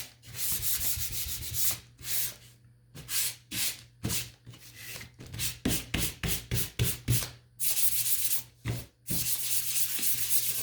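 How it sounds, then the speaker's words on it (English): Hand sanding along the edges of a wooden toy truck to give it a distressed look, made of short scraping strokes in quick bursts with brief pauses between them, close and fairly quiet against a low steady hum. "I'm just kind of distressing the edges a little bit, especially when I put this piece back in."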